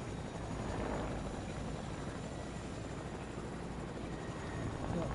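A helicopter in the Fortnite video game drones with a steady, muffled rotor rumble that holds at moderate loudness, with no talk over it.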